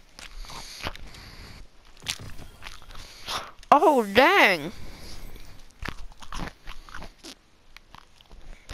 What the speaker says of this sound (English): ignore the crunching, please.